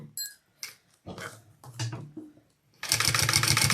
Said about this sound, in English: Okay, and now I want to just do a top stitch.